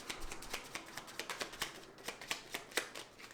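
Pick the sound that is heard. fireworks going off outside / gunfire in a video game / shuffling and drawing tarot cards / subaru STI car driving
shuffling and drawing tarot cards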